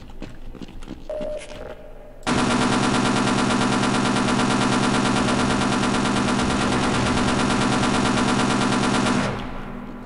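A mounted machine gun fires in Half-Life: G-Invasion as one loud, continuous burst of rapid shots lasting about seven seconds, close and unbroken, cutting off abruptly after softer game sounds.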